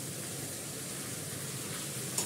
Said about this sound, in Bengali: সরষের তেল দিয়ে ফোড়ন দিয়েছি, হিং ফোড়ন দিয়েছি